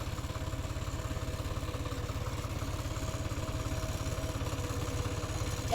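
Close, steady pulsing of a tractor engine driving across a farm field at groundnut harvest time, even low throbbing with faint mechanical clatter throughout and no talk.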